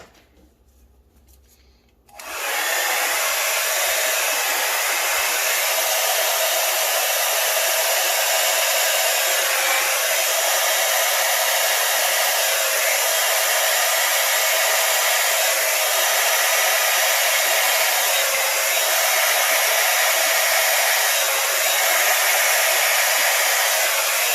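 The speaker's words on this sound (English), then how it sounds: "So first I'm just going to blow it out a little bit, just to spread it out, and hit it with the Yeehaw." A Yeehaw blower pushes and spreads wet paint across a poured art surface in a Sassafras Red Violet bloom piece. After a brief quiet start it roars into a loud, steady, close airy rush that holds unbroken to the end.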